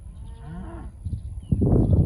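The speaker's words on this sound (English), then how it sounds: "They mooed at her a little bit earlier." Cows on a farm near Wisner, Louisiana, give low, drawn-out moos close by, one long call followed by rougher, louder lowing at the end, with no talk.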